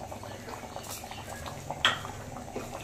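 Pot of jackfruit seed dal simmering on a gas stove, a soft low bubbling with faint occasional clinks, quiet and close.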